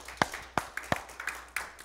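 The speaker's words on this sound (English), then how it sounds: "Give the Lord a hand clap" A few sharp, separate hand claps ring out in a church during a Wednesday service, irregular and close, with softer claps scattered between the louder ones.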